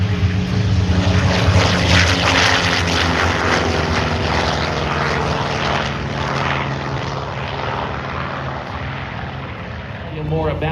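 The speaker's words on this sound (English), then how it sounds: "from the left at over 300 miles an hour, here's the Corsair" A Vought F4U Corsair fighter plane makes a fast pass at the Oregon International Airshow in McMinnville, its loud propeller engine roaring steadily throughout with a deep drone that slowly fades, while an announcer's voice is faintly audible underneath.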